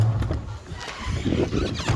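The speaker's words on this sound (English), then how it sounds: "Now let's go do a test run. See if it screeches this time." A car heater blower fan runs during a test for screeching, giving a rough, fluctuating whir and rumble with brief squealing edges over about two seconds.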